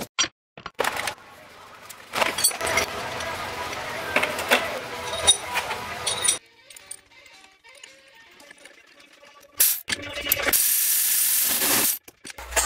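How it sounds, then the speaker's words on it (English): Hand tools ratchet and click while a car's horn ring and steering wheel come off, the mechanical clicking coming in bursts with quiet stretches between and a louder rush near the end. "Next, we remove the horn ring and the steering wheel."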